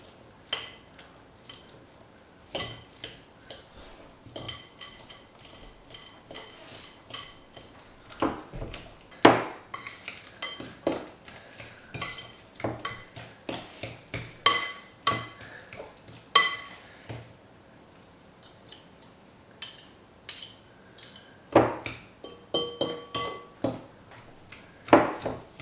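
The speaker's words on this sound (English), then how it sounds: "Let's smush them. You can use a fork to do that." Three avocados being mashed with a fork in a bowl for guacamole, heard as a long run of scattered metallic taps, scrapes and clinks against the bowl, close by and irregular, with no talking.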